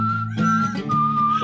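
A whistling section in a song carries a clear, sustained melodic tone that slides between a few held notes over soft backing instruments, with no talking.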